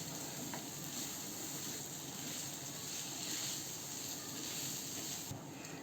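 Potatoes tossed with turmeric powder and salt sauté in a pan, making a soft, steady sizzle and faint stirring scrapes close by, quiet and continuous with no talk over it.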